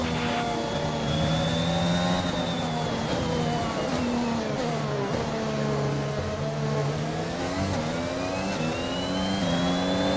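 A Formula 1 car engine in the F1 21 video game revs before the start of the Russian Grand Prix, a high, whining tone rising and falling in smooth sweeps, steady and fairly loud throughout.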